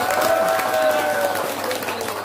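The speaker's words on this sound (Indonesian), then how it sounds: "tepuk tangan buat rekan-rekan." A seminar audience bursts into brief, dense applause, with crowd cheering and a raised voice or two ringing out over the clapping.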